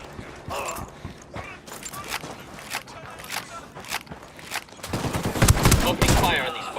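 Gunfire in the tactical shooter Ghost Recon Wildlands: a loose series of sharp shots scattered throughout, building into a louder, denser burst toward the end, with a voice talking in between.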